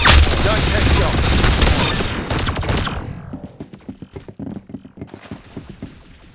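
Rapid gunfire from the video game Arsenal bursts loudly in dense volleys, then gives way to quieter, scattered sharp shots and clicks.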